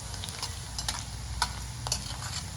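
Garlic and chili frying in hot oil for murmure chiwda, a steady quiet sizzle with low rumble beneath and a few sharp crackles and pops scattered through.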